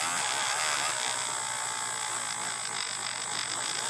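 Rotary tool with a low-abrasive polishing bit grinding paint off a die-cast Hot Wheels car, a continuous high-pitched whine held steady throughout, close up and moderately quiet, with no talk.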